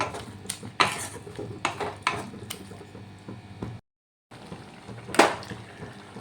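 A spoon stirs garam masala into a banana flower curry in a metal pot, giving scattered scraping clinks and knocks against the pot with quieter stretches and a brief gap of silence.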